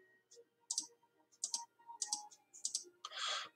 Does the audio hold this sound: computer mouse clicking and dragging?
yes